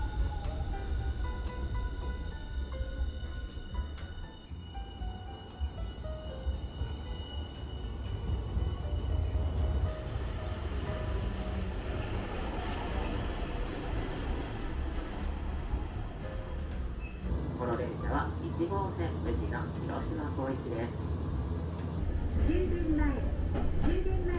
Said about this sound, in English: I headed to Kamiyacho Higashi tram stop and took the streetcar.